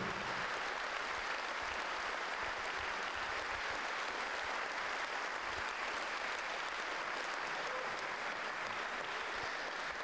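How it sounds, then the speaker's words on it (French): Sustained applause from an audience at a cheque presentation for a cancer charity, dense and steady clapping that fills the full ten seconds. "un grand tonnerre d'applaudissements à ces gens-là"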